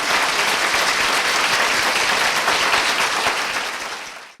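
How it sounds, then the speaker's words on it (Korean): Applause opens a ceremony in a large eighth-floor auditorium, a dense, steady wash of clapping from a big indoor crowd that fades out toward the end. "여러분의 크신 박수로 오늘 발단식을 시작하도록 하겠습니다."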